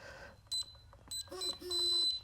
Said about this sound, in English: when it hits that limit, it'll vibrate and beep